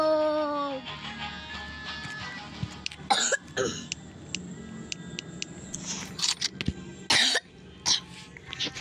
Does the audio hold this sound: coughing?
yes